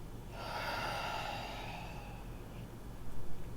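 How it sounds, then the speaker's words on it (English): A person draws a slow, breathy inhale during a stress-release yoga neck stretch, a soft, steady airy rush lasting a few seconds, close and quiet, with a slight rise near the end and no talking. "Take a breath."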